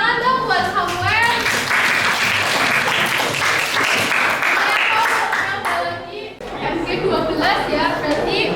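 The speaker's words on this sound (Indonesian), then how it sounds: "tepuk tangan dong buat Samuel" Classroom applause for a student named Samuel, a burst of many hands clapping at close range with children's chatter mixed in, fading briefly before voices carry on.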